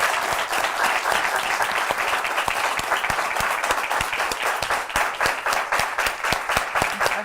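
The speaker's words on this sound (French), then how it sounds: "pourquoi pas vous méritez des applaudissements" Sustained audience applause, dense and steady clapping filling the whole stretch without voices, at a presentation on the Guèlèdè mask tradition of Kétou in southeastern Benin.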